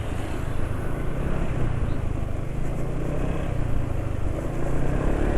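A steady, rumbling motorcycle engine hums continuously at a moderate level, holding a low idle-like drone without clear revs or pauses, running degraded oil with a graphene nano additive.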